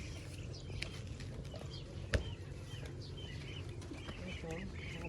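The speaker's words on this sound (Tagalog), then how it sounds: "Ayun yung mga baby tsaka manok namin" A flock of backyard chickens with their chicks gives soft clucks and peeps among rustling and a brief flutter, moderately close, under a low steady background, with faint talking mixed in.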